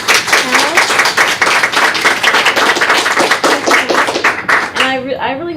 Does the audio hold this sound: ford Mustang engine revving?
no